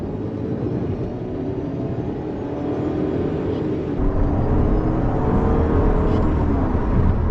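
A VW Tiguan SUV accelerates in normal mode, its engine rising as a steady, close rumble and whir that builds in loudness toward the end, with no talking.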